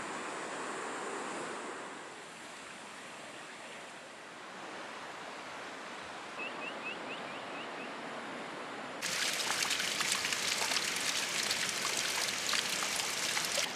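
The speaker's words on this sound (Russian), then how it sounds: "снимал вот эту воду по стене, которая катится" Water trickling down a basalt rock wall at the Symphony of Stones gorge in Garni, Armenia, a steady soft splashing and hiss, fairly faint, growing brighter and louder near the end.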